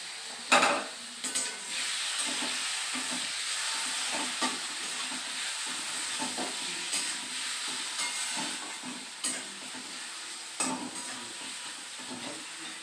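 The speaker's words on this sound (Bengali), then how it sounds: "মাংসটা ভালো করে ফ্রাই করা হয়ে গেছে" Meat fries in a pan with a constant loud sizzle, punctuated by repeated scraping stirs and light clinks of a utensil against the pan, no voices present.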